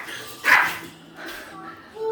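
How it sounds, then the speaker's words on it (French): Pet dogs scuffling indoors, with a sharp bark or yelp rising out of low growling and whining, fairly faint and in the background. "mes chiens qui se bagarrent"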